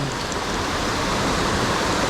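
Steady, dense rushing water from a river running strong and murky after two days of rain at a bass fishing spot, a constant loud broadband roar with no pauses and no talking.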